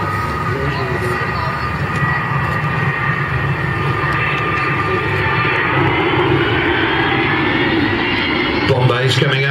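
Avro Vulcan XH558 bomber jet engines roar steadily and loudly at the East Fortune airshow throughout, with an announcer talking over the sound.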